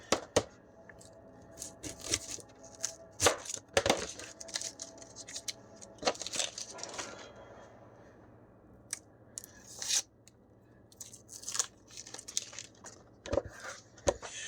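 A knife chops through the second half of an onion during meal prep with peppers, producing sharp, irregular crunchy cuts and scrapes on a board, close and quiet, with no talking.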